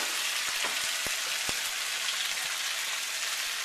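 Chicken thighs frying in oil in a jumbo fryer: a steady, dense sizzle with a few soft pops and clicks, close and continuous, with no voices.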